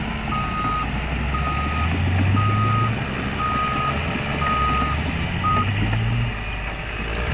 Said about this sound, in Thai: กับเจ้าแคทพิล่านะครับ D6R 2XL นะครับ ยักษ์ใหญ่นะครับ สิบล้อรถหนึ่ง ดันเทือเดียวครับพี่น้องหายเลยครับ